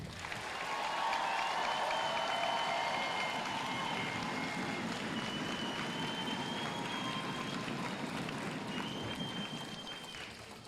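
Sustained applause from a large crowd honoring soldiers at an Army basic training graduation at Fort Jackson, a broad, even roar of clapping swelling in and holding for several seconds, with whistles and cheers cutting through.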